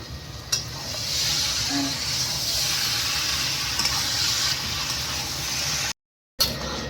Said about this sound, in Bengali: হয়ে যাক, মাছটা দিয়ে একটু কষাই।